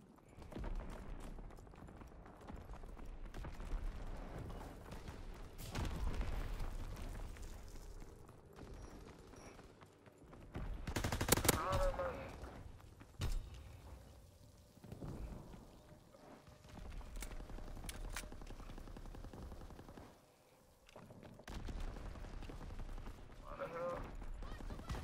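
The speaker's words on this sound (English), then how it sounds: "Somebody shooting at me from the middle." Video game gunfire from Call of Duty: WWII comes as scattered bursts and single shots, some sharp and loud, others distant, amid steady background game noise, with a player occasionally talking over it.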